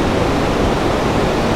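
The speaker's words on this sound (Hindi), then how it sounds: "देखिए नदी ऊपर से आ रही है इन पहाड़ों से, ये नदी इन पहाड़ों से आ रही है।" The Parvati river at Manikaran rushes down from the mountains in a loud, steady wash of water, a dense unbroken roar with no voices over it.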